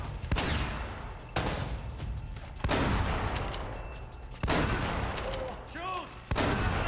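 Gunfire in the action game Uncharted: Drake's Fortune, several loud separate gunshots spaced a second or so apart, each with a decaying echo tail, plus faint vocal sounds between them.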